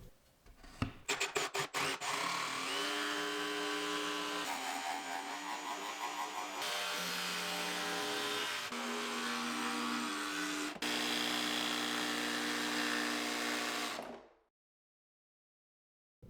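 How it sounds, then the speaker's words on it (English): A jigsaw buzzes steadily through plywood for several seconds, with a brief drill whir at the start, loud and close, then stops abruptly. "then cut out the inside piece using a drill and a jigsaw"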